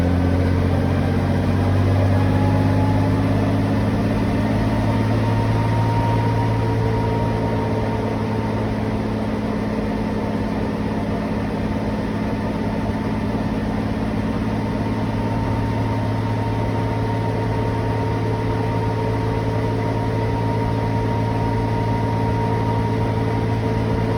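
A Bell 47J helicopter's piston engine runs at 2200 rpm warm-up, a loud, steady droning hum with constant tonal whine, unbroken and close throughout.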